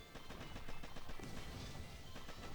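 Rapid machine gun fire rattles in Boom Beach, a steady run of sharp, fast bursts at moderate distance, mixed with scattered impacts and a dense battle din.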